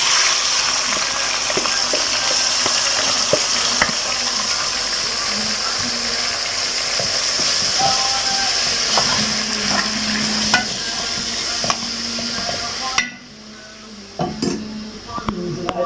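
Diced tomatoes sizzling steadily in a pan for moussaka, with a utensil stirring and scraping against the pan and occasional clinks, close and fairly loud; the frying quiets toward the end.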